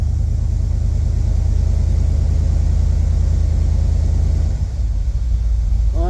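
Small-block 350 V8 in a 1976 El Camino running at a steady, loud, low rumbling idle, with a brief dip in the sound near the end.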